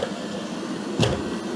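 A robot vacuum cleaner runs with a steady, moderately quiet whirring hum, interrupted by a brief bump or knock partway through.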